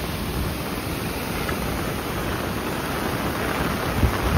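Heavy unseasonal morning rain pours down in the Konkan region, a dense, unbroken roar of falling water that stays loud and even throughout, with no voices.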